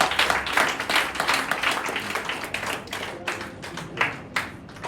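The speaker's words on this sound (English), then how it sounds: "So shall we clap for our teacher?" A group of students claps for their teacher during a visit to COCOBOD in Kumasi. The clapping is close and fairly loud, with uneven, overlapping claps that swell and fade over several seconds.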